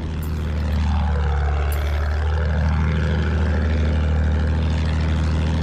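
Enemy bomber aircraft in the Battlefield 1 video game, a loud steady propeller-engine drone that holds throughout, with a slight pitch sweep as it passes overhead and no talk.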